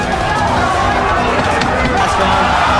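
A boxing crowd roars and cheers throughout a fight between Hista and Diaz, a dense, steady wall of loud cheering and chatter from a large audience.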